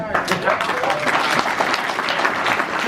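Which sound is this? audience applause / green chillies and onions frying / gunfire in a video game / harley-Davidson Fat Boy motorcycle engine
audience applause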